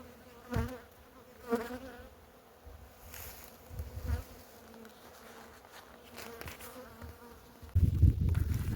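Honey bees buzz around newly moved hives at a relocated apiary. A soft drone of many bees is punctuated by individual bees passing close by, and a rough, louder rumble comes in at the end.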